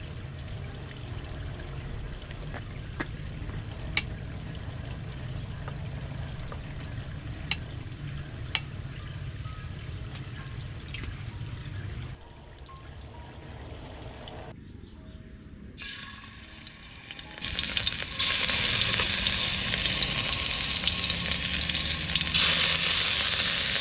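Shrimp frying in a pan with chili, crushed garlic and pepper, giving a steady sizzle that briefly drops and then comes back stronger and louder near the end.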